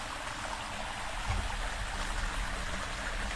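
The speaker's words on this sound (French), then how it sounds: "Et voilà ma petite cascade." A small waterfall stream in Catalonia gives a steady, close rush of flowing and trickling water, constant and broadband throughout with no talk over it.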